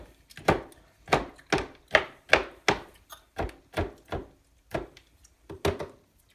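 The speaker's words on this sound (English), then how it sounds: "Basically just chop it so the whole thing looks like that." A knife chops through a 4.4-ounce chocolate bar on a cutting board, giving a dozen or so crisp, close thunks at an uneven, brisk rhythm with no talking.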